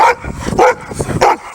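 A dog barks three times at close range in a loud, evenly spaced series, with short pauses between barks.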